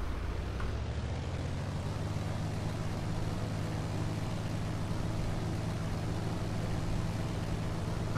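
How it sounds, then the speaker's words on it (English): A Lancair Legacy's piston engine held at takeoff power around 2700 RPM in the X-Plane 10 flight simulator, a steady, loud, unbroken drone with a low hum and broad roar, no voices. "Okay, takeoff power to 2700 RPMs"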